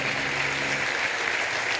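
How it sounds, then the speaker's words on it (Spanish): A brief burst of loud, dense clapping from a congregation during a church service. "Dele un aplauso fuerte al Señor Jesucristo."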